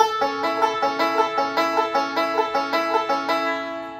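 A banjo picks a quick, repeating bluegrass forward roll, thumb on the fifth string, bright plucked notes steady and evenly spaced, with no voices.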